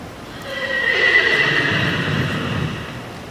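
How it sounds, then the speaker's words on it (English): Horses at an equitation competition neigh loudly in a long whinny, with hoof clip-clop beneath, close and clear and without talk over it. "Riders, please walk your horses, please walk."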